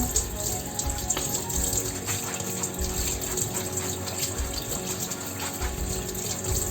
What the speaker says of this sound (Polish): I teraz to tak przepłukamy zimną wodą bieżącą.